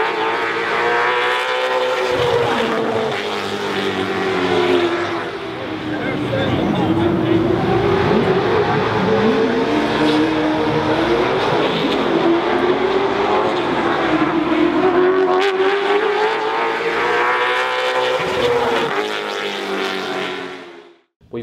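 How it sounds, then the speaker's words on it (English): Late model stock cars race around Carteret County Speedway during a tour event, their engines roaring loudly and continuously with rising and falling pitch as they pass, for about twenty seconds. "I'm here at Bobby Watson's Carteret County Speedway for the late model stock cars tour and the Crystal Coast 125"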